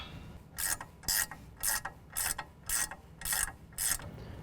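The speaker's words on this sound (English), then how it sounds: "we can go ahead and tighten down the upper and lower ball joints" Ratchet wrench tightening the upper and lower ball joints on a 2015-17 Ford F-150 4WD during a lift kit install, seven crisp clicking bursts in an even rhythm, close and alone.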